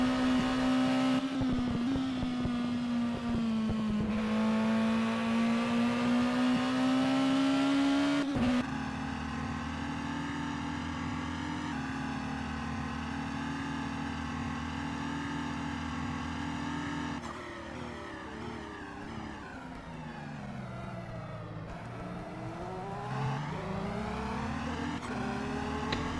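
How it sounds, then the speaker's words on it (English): A racing car engine in a racing video game, a sustained high whine rising and falling through gear changes and revs, loud and close throughout with no talk over it. "This is the 51 racing car."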